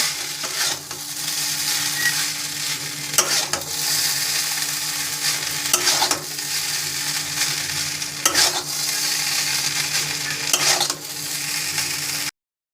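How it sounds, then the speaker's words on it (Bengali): Chow mein stirred and fried in a pan, an even loud sizzle broken every couple of seconds by scraping stirs against the metal, with no talking. "ভালো করে এটাকে মিশিয়ে নেব।"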